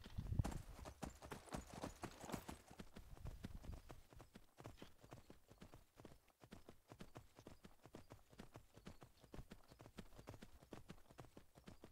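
Hooves clip-clop in a brisk, even rhythm as a horse moves along in a video game, each step close and distinct, with a louder scuffle at the start.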